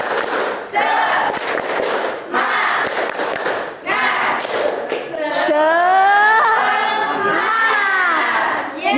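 A group of children performs a rhythmic spirit clap in a classroom, loud bursts of claps and chanting voices in quick succession, ending in a sustained shout together.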